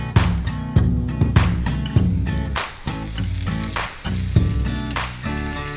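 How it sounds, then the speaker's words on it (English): Garlic butter and olive oil sizzle over medium heat in a skillet as bison backstrap sears, a loud close crackling hiss with repeated sharp pops and spatters throughout. "We're gonna add this garlic butter now."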